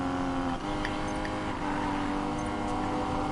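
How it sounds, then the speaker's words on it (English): Rival race car in the video game Need for Speed Payback, racing against a Porsche GT4: a steady, loud engine drone with a sustained high whine, running on without a break for a few seconds, no talk. "Ghost is right next to me, I can hear his car."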